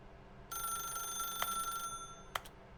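A telephone rings in The Stanley Parable video game, a steady electronic ring tone that starts abruptly and holds for over a second, with two short sharp clicks over faint background hum.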